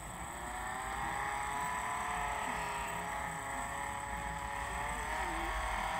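A car driven through Roblox Jailbreak hums steadily with a continuous engine drone and a slight pitch wobble, holding a constant loudness throughout with no one talking.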